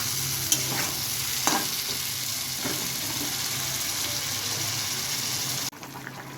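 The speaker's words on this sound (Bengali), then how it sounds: "এর মধ্যে আছে পেঁয়াজ, টমেটো, অল্প একটু কাঁচা লঙ্কা, শুকনো লঙ্কা গুঁড়ো আর হলুদ, এটা দিয়ে একটু কষাই।" A spice paste of onion, tomato, green chili, chili powder and turmeric sautés and sizzles steadily in a pan, with a few stirring scrapes and a brief clatter, and no voices.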